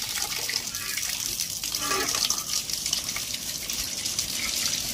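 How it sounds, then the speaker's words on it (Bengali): Hilsa fish are rinsed under running water: a steady, moderate gush of a tap with splashing and faint handling sounds, fairly close. "এবারে আমি মাছগুলো ধুয়ে নিচ্ছি"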